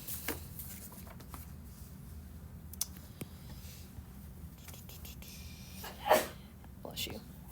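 A single sneeze bursts out at close range in a quiet classroom during a precalculus lesson, loud and sudden against faint room noise and scattered small clicks.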